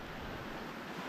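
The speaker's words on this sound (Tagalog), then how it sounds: "medyo lumalakas na yung hangin kasi parang paulan na" Wind gusts across open water at a fishing spot before rain, making a steady, broad rushing roar that buffets the microphone. It is continuous for about a second, with no talking.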